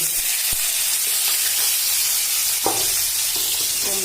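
Pumpkin pieces frying in a hot pan for a Bengali chickpea-lentil dish, giving a loud continuous sizzling hiss with faint stirring clinks, close up.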